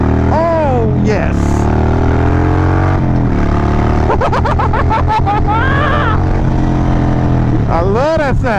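Harley-Davidson Sportster with Vance & Hines Mini Grenades exhaust, a loud, deep, rumbling idle that swells into sharp throttle revs and falls back, heard up close.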